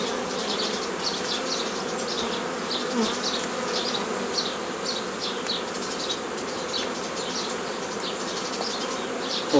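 Honey bees buzz steadily around an open hive, a dense continuous drone close by with no pauses and no voices.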